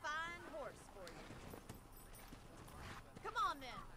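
Horse hooves clip-clop in Red Dead Redemption, faint and uneven steps of a horse walking beneath someone speaking, which dominates the foreground.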